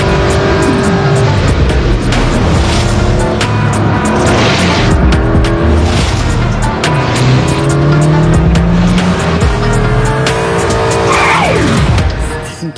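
A GT race car driven flat out on a track, heard from inside: a loud, continuous engine roar rising and falling through gear changes, with tire squeal through the corners.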